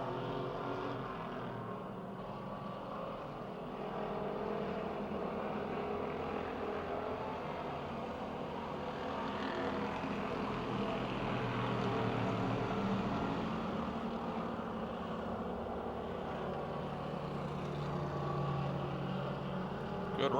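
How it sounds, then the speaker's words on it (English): Race cars circle a half-mile dirt oval at Pennsylvania Motor Speedway near Pittsburgh, a steady continuous engine roar that swells slightly as the pack passes, with no clear speech over it. "Joe Podolinsky driving off."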